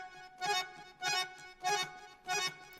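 A wajja sample in a desi beat plays as four evenly spaced rhythmic bursts about half a second apart, each with a bright, buzzy attack, fairly quiet and alone without talking.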